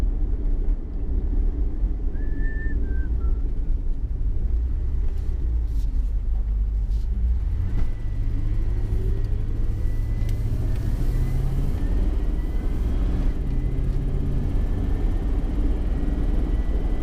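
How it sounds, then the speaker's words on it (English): A 1990 Jeep Grand Wagoneer FSJ running on a FiTech fuel injection setup drives down a street on a road test, its engine a steady low rumble with a few shifts in pitch as it accelerates and eases off, close and continuous throughout. "let's run this thing down the street real quick, see if Steven's at work"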